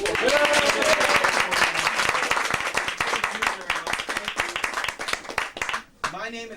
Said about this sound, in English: Can I have a round of applause for my 2 wonderful...